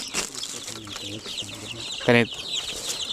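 Two-week-old chicks calling close by: a few short cheeps, with one loud, sharp chirp standing out near the end, over a soft background murmur.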